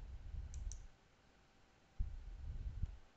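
Two soft computer mouse clicks, one near the start and one about two seconds later, each faint and short against a quiet background with no voices.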